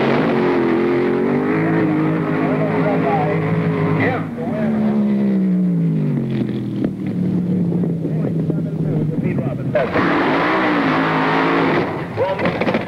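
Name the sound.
funny car drag racing engines, 1969 NHRA Nationals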